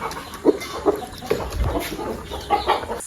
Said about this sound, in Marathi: मामाच्या घराकडची कोंबडी बघा